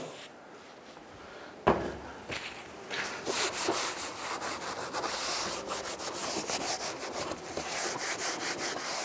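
Cloth wiping and rubbing under the rear deck lid of a 2006-2011 Honda Civic, close scrubbing strokes in quick repeated bursts after a single knock.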